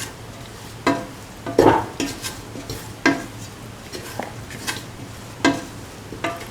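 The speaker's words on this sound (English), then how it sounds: "Mix thoroughly." Garam masala spice mix is stirred into a cauliflower and bottle gourd stew, a spoon scraping and clinking against the pot in irregular strokes over a soft sizzle, close up and without talk.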